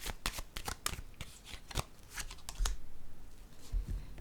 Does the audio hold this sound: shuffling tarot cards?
yes